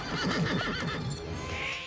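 A horse neighs loudly and close while its head is held, a sustained, wavering whinny that fills the whole moment with no talking.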